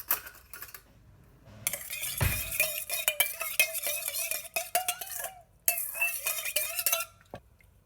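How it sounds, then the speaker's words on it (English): Spoon clinks and scrapes steadily around a small bowl while onion powder and smoked paprika are stirred together, a busy run of close, bright metallic ticks with brief pauses between strokes. "This is the onion powder and the smoked paprika. Let's get that mixed around."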